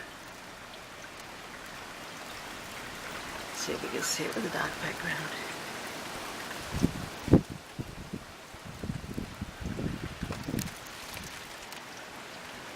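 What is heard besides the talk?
pouring rain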